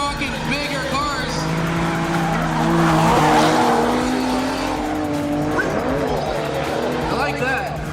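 A Nissan G35 and an S13 drift in tandem at a competition final, tires squealing in long wailing tones over engine roar that swells midway, with a commentator talking over it.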